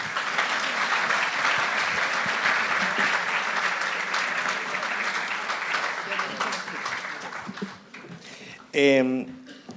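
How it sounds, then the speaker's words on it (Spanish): A seated audience at a panel discussion on just energy transition claps steadily, fading gradually, before a voice speaks briefly near the end. "Un aplauso, por favor, para Analia."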